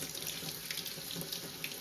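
Ordinary tap water runs steadily over the screens of a juicer into a sink, giving a continuous, even splashing hiss, moderately quiet and close, with no talking.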